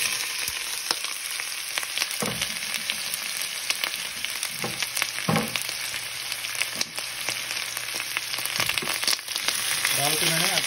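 Onions sizzle and fry in hot oil for a home-made goat mutton curry, a steady dense crackle throughout with a few stirring knocks.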